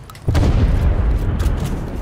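Deep booming explosion in the game Fortnite, erupting suddenly after a brief pause and rumbling on loudly for the rest of the moment.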